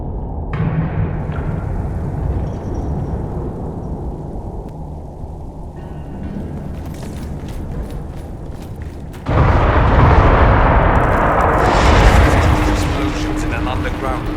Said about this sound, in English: Explosions in an underground ruin.